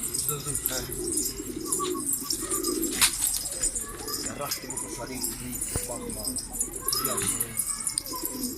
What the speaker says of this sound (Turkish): Arkadaşlar kuş kalktı